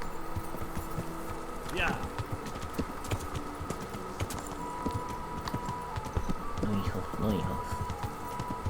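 Horse hooves clopping at a riding pace in the medieval game Kingdom Come: Deliverance, a steady muffled rhythm under game ambience with someone talking briefly over it.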